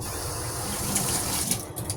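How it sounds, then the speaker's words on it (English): Water runs steadily into a Brita filter jug being filled, a close, continuous gushing rush with no voices. "I'm also Brita filtering water. So excuse me while I fill that."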